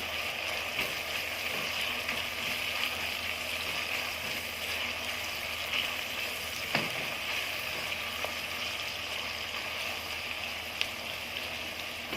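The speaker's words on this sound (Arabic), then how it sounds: "طبعا انا بحمر البصلايه حلو قوي علشان الطماطم عندي الصلصه بتطلع حمرا وحلوه كده" Onion frying in a pan, a steady bright sizzle and crackle that runs unbroken throughout, with a few faint clicks and no voices.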